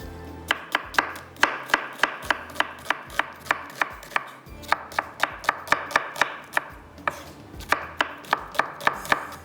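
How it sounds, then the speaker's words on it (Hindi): A knife slicing onion on a cutting board for a dish with tomato and hand-pounded mince, a close, steady run of crisp rhythmic chops, about three per second, with no voices. "प्याज को हम क्या करेंगे स्लाइस में कटिंग करके"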